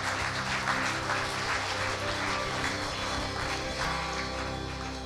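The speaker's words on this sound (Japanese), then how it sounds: "神様に大きな拍手しましょう。" A church congregation applauds in praise of God at the close of a prayer, a steady wash of many hands clapping together, filling the room evenly throughout with no talking over it.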